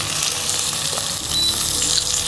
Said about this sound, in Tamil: இந்த புளிச்சக்கீரை நம்ம நீர் விடாமல் எண்ணெயிலேயே அப்படியே வதக்குறோம்.